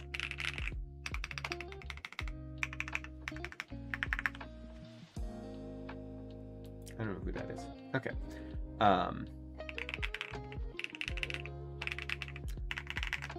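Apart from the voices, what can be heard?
typing on Womier ERA75 mechanical keyboard, stock switches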